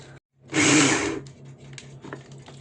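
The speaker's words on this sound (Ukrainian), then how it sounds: "переб'ю його в блендері" A blender motor roars in a short, loud burst of whirring while blending sponge-roll filling, then settles to a lower, uneven hum.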